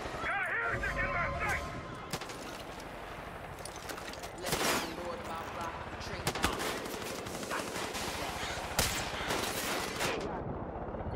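Gunfire in the Far Cry 5 video game crackles in bursts of rapid shots and sharp single cracks over a busy game background, with a player talking throughout.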